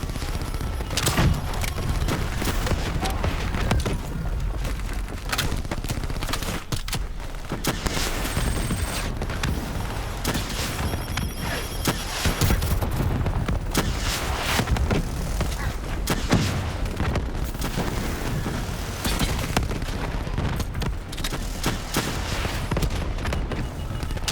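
Sustained gunfire pours onto the Manticore in Call of Duty Black Ops 3, a dense, continuous stream of rapid shots and booming impacts that stays loud throughout the stretch of combat.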